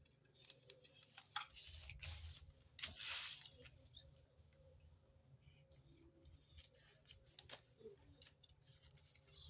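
Scissors snip through dress fabric in a few soft crunching cuts early on, followed by faint rustling and small ticks, quiet and close.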